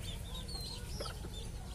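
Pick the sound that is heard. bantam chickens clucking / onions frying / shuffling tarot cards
bantam chickens clucking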